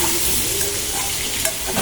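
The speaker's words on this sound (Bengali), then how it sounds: "এটা ভাজা হোক।" Potatoes frying in oil in a pan for a vegetarian dish, a loud steady sizzle and crackle running throughout with a few faint scraping stirs, and no talk.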